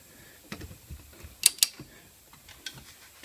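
A torque wrench tightening wheel lug nuts to 100 during a summer-to-winter tire change gives two crisp metallic clicks close up, surrounded by faint ratcheting and handling noises in a quiet space.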